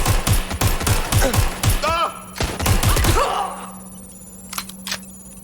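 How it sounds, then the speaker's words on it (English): Gunfire in Watch Dogs Legion: a rapid run of sharp, loud shots crackles along with shouting voices over them, then the shooting breaks off into a quieter tail with a few faint clicks. "Suspect shooting!"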